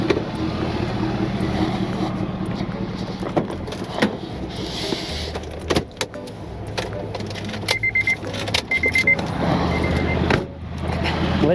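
A truck left in neutral is pulled up by a winch during a neighbourly vehicle recovery, with a continuous mechanical engine and motor drone, intermittent clicks and clunks, and a repeated short beeping midway.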